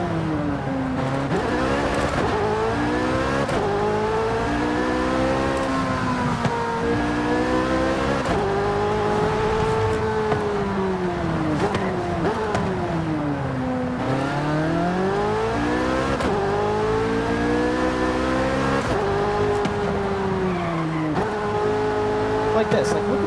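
A stock CR1 car on the Mexico map of a driving video game revs and shifts continuously, engine pitch climbing and falling through gears, loud and steady with a voice talking over it.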